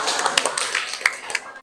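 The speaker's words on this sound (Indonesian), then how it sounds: "Sekali lagi, aplaus lagi. Tepuk tangan, apresiasi ya." Short burst of hand clapping after a group presentation in a classroom, a handful of sharp, irregular claps close by, with a voice briefly heard.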